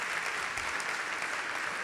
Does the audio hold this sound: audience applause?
yes